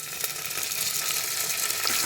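Onions cooking down in a pan before tomato goes in, a soft, even sizzle close by with faint occasional stirring, no voices.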